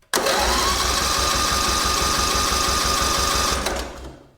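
A Cub Cadet 1440 engine cranks over on the starter at full throttle for a compression check, a loud, fast, even chugging that runs steadily for about three and a half seconds before winding down and stopping.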